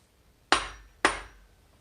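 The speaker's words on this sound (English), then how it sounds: "hammer a little bit" Two sharp hammer taps about half a second apart while installing a crankshaft with ARP studs, each ringing briefly before fading, with quiet in between.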